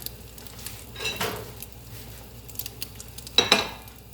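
Spanish tortilla spun in a cooking pot, giving soft scraping and clattering pan noises with a couple of brief louder knocks, heard close over a faint background hum.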